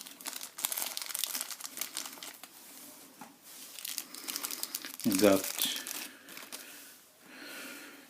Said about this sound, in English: you get all the hands are wrapped in plastic bags.